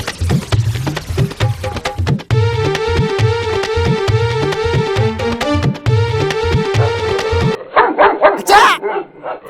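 A dog barks in a rapid, evenly spaced series of loud barks and yips over a sustained tonal background, ending in a brief whimpering burst.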